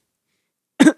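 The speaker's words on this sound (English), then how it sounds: "Hey, don't cough on that." A single short, loud cough close to a microphone, sharp and isolated after silence.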